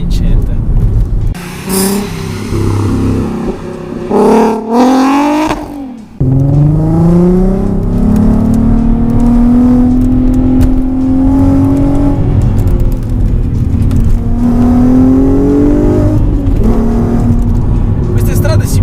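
A Volkswagen Golf R32 MK5 with a large naturally aspirated engine and manual gearbox revs while driving: a sharp blip, a brief drop, then a long, rising, loud engine pull close to the listener.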